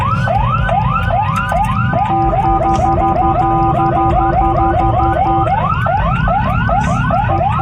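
An ambulance siren wails loud and close, cycling through rapid rising yelps, then switching to a slower two-tone pattern before returning to fast yelps, with no voices.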